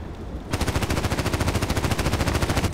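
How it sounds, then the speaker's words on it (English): An RPK machine gun fires in the online shooter Contract Wars, a sustained rapid burst of evenly spaced shots that starts abruptly and runs loud and steady for about two seconds, with no talk. "that's why I love this RPK so much, because it's precise, I can use it as a machine gun"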